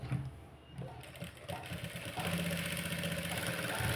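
A sewing machine stitching the edge of a high-neck blouse, a close motor whir that builds into a steady running drone.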